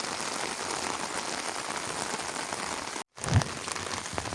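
Heavy rain pouring down on a farmstead, a dense continuous hiss of drops on surfaces, loud and close, with a brief cut and a low thump near the end.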